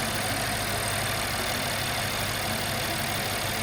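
A BMW N63/S63 V8 idles smoothly and evenly after its O2 sensors were replaced, a close, steady mechanical hum and broad whir without misses or sputtering.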